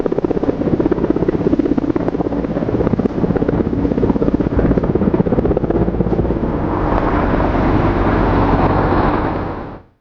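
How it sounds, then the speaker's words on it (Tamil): Military helicopters fly on border surveillance, making a loud, close, rapid rotor chop with a heavy engine roar. The sound is steady, then fades out abruptly at the end. "எல்லைப் பகுதியில் ஹெலிகாப்டர்கள் மூலம் கண்காணிப்பு பணி எவ்வாறு மேற்கொள்ளப்படுகிறது"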